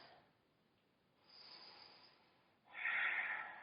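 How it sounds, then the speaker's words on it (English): A deep breath during yoga practice, a faint, close, airy inhale followed by a louder, fuller exhale at the end, alone without talk. "Take one more breath."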